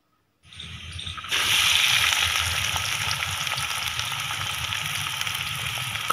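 Onions hit hot ghee in a wok and fry with a loud, steady sizzle that jumps up after a brief quieter start and then holds evenly to the end.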